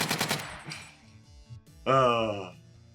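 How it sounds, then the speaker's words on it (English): AK-47 gunfire in the Minecraft Tac Zero mod, a rapid burst of sharp shots at the start followed by scattered thuds, then a voice speaking briefly over the tail. "An AK-47"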